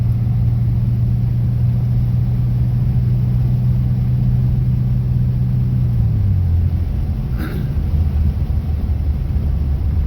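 A 1987 Chevy Celebrity Eurosport on a test drive with freshly replaced bushings, a steady low engine hum and road rumble heard from inside, pitch dropping partway as it shifts, no talking.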